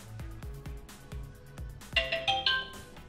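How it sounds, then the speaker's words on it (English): A Logitech Circle 2 wire-free security camera plays a short bright pairing chime of a few rising tones near the end, after a run of soft rhythmic thumps. "You're gonna hear that little chime on your camera."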